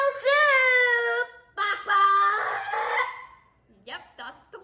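Chicken clucks and a rooster's cock-a-doodle-doo crow as a sound effect, a drawn-out crow first, then choppy clucking bursts and a short final squawk, loud and close with no talk.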